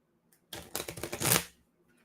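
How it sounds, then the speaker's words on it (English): Playing cards being riffle shuffled make a quick burst of dense fluttering clicks lasting about a second, close and fairly quiet, alone without talk. "I just shuffle cards"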